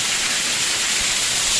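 A small waterfall at SitaKund near Baripada, Mayurbhanj, rushes in a loud, dense, continuous hiss of falling water, close by and unbroken.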